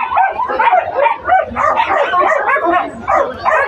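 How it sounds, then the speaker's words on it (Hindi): An angry black dog at the Sonpur Mela dog market barks, yips and whines in rapid, loud bursts, close by with continuous agitated vocalizing. "ये देखिए एकदम पूरा जो है कुत्ता जो है गुस्सा हो गया भैया, और देखिए एकदम काटने को दौड़ रहा है"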